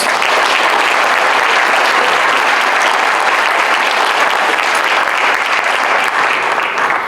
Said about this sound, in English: Please join me in giving all of our inductees one last round of applause.